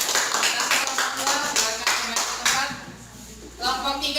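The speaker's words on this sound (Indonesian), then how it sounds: "Beri tepuk tangan untuk kelompok 2." A classroom of students claps for a group that has just finished presenting in a teacher-training lesson. The clapping is dense, fairly loud and steady for about four seconds, with voices talking over it.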